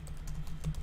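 A quick run of light, close keystrokes on a computer keyboard as a command is typed in a terminal, soft and evenly spaced over under a second.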